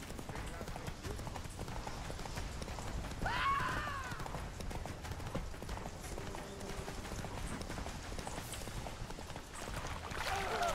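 Hoofbeats of the horse Roach galloping in The Witcher 3, a steady rapid clatter running under combat sounds and voices throughout.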